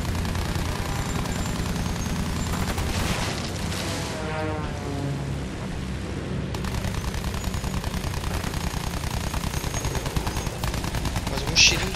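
Battlefield 1 gunfire: rapid rattling bursts of shots and loud booms, continuous through a noisy battle scene, with brief voices mixed in.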